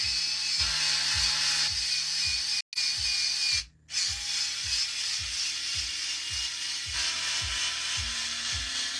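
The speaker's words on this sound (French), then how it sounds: "je prends une vis, je mets un peu de gras sur le filetage et à l'aide d'un tournevis électrique" An electric screwdriver drives a greased screw during assembly of a Genius GTC8E model car differential, giving a steady ratcheting buzz with rhythmic clicks throughout and two brief gaps, close and fairly loud with no speech.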